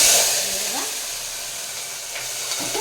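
Cumin and mustard seeds fry in hot oil for a curry, giving a steady close sizzle and hiss with faint crackles throughout.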